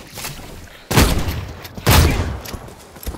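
A trench gun in The Cycle Frontier fires two loud, close blasts about a second apart, each ending in a short decaying tail, with quieter shooting scattered around them.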